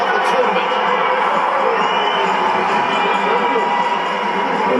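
Large crowd cheering and whooping at the Gold Coast Sevens 2012 rugby tournament presentation after the Fiji versus New Zealand final, a dense, steady roar from many voices throughout.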